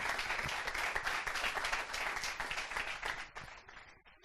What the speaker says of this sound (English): I want that you give a huge round of applause for Travis